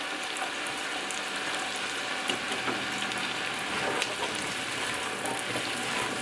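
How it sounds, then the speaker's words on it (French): Carrots and onions begin to cook in a pot for a yellow lentil soup, giving a steady, even sizzle and faint bubbling hiss that holds at a constant level throughout, with no talking. "je suis prête maintenant à commencer à cuire les carottes et les oignons"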